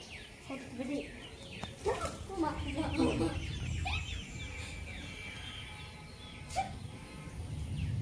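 Chicken chicks chirp and cluck in short scattered bursts at a quiet level, mixed with other farmyard bird calls and low background noise, while people talk nearby.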